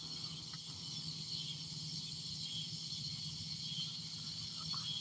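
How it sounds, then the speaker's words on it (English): Cicadas, also called katydids, droning in a steady high buzz near a creek in the Atlanta area, a constant faint insect chorus without talk. "There is a creek back behind me. Those are cicadas. In the South, we call them katydids."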